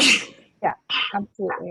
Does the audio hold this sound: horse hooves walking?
no